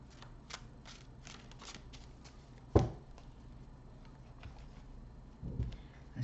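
A Halloween tarot deck being shuffled by hand: soft, quick riffling card flicks close by, broken by a louder tap and a brief rustle, then a few more quiet shuffling sounds.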